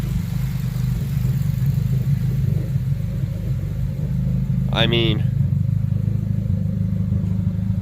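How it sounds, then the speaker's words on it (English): A turbocharged Honda Civic EG engine idles with a steady, loud low rumble and slight lope throughout, while someone speaks briefly near the start and a short sharp squeal-like sound cuts through mid-way. "it's not idling horrible."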